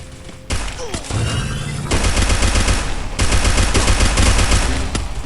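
Loud automatic gunfire in the mobile battle royale game Free Fire, starting after a short lull and continuing in dense, rapid bursts that grow heavier, with a faint voice under the shots.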